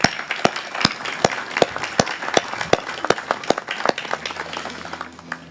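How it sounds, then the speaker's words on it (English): Audience applause at a City of Corpus Christi event introducing the new public health director, a dense run of claps with strong sharp hits standing out, fading toward the end as a low hum remains. "Let's give them a round of applause, please."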